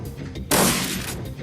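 A single loud, close shotgun blast from Shadowrun: Dragonfall bursts out midway through, with a broad crack that decays over about half a second above low background noise.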